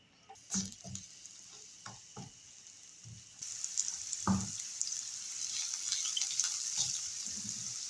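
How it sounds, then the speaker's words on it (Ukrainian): Onion sizzling and frying in hot sunflower oil in a pan, a steady crackling hiss that grows fuller, with a few scattered clicks and knocks of utensils early on. "спочатку підсмажую цибульку"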